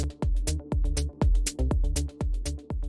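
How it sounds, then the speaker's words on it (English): Oriental house intro with a punchy kick drum thumping on a steady beat, percussive top loops ticking between hits and a deep bass line underneath, sparse and loud. "where you can only hear kick, top loops, and the bass line."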